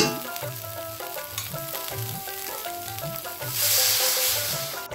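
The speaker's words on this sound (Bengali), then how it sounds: "সবকিছু ভাজা হয়ে গেছে, এখন দিয়ে দেবো জল।" Water hits a hot pan of fried cheua fish and spices, and a loud, steady sizzling hiss swells up near the end over a backing of music.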